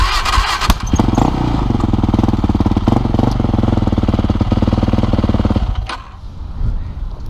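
A Yamaha YFZ 450 ATV engine catches after a brief crank and settles into a loud, close, rapid thumping run that continues for several seconds before dropping away, with some low voices alongside.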